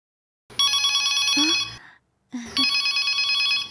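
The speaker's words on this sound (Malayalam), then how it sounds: "എടുത്തോ, നിനക്ക് തന്നെയാ ഫോൺ." A telephone rings in a home, two loud bright electronic ring bursts separated by a short pause, sounding close and alone without talking.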